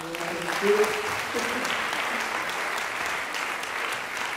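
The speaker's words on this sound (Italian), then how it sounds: "Applauso anche più grande." An audience claps for a children's choir, steady moderate applause heard at some distance, with a brief voice near the start.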